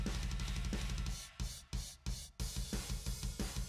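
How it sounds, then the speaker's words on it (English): A crash cymbal from a drum software instrument, struck and choked by hand in a metal backing track, giving several short cut-off hits amid a steady drum and guitar pattern. "So you know when drummers hit a cymbal and then they grab it to deaden the sound."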